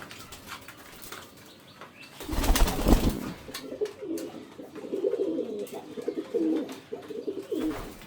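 Pigeons at a pigeon farm coo in low, throaty murmurs after a brief burst of flapping wings, the cooing repeating close by.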